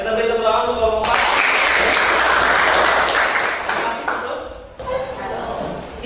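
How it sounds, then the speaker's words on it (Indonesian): A classroom audience claps for the fourth student group after its presentation, a broad burst of applause that swells, holds steady and then fades, with voices before and after. "Kita beri tepuk tangan untuk kelompok 4."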